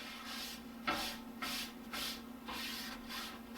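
A cloth or paper towel wipes excess oil off a seasoned Blackstone griddle surface in steady back-and-forth strokes, a soft rhythmic rubbing of about six passes, close and quiet with no talking.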